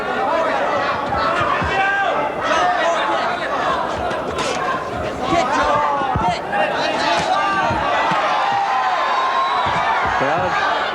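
Arena crowd at a 1983 boxing bout between Paul Vizzio and Joe Soto, a steady babble of excited voices and shouts rising and falling, with a commentator talking over it.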